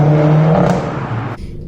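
A Renault Clio RS Trophy engine idles steadily on a cold day, a loud low drone with a brief rise in pitch before settling back, heard up close with no talking.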